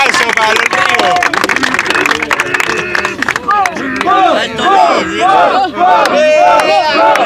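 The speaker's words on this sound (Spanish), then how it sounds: "Vamos, un aplauso para los primos." Crowd at a Spanish-language rap battle cheering and clapping, loud and close, with shouting voices and chanting layered over a steady wash of applause throughout.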